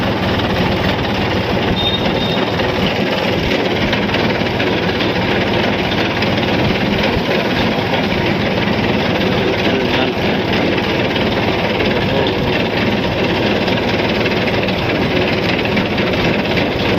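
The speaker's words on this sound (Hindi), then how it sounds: "ये देख सकते हैं मेरा ट्रैक्टर है ये" A loud tractor engine runs steadily and close by on the way to a field, a continuous rumbling drone with no pauses.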